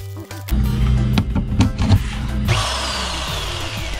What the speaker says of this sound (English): I have a very thin drill bit on and I'm just going to drill straight through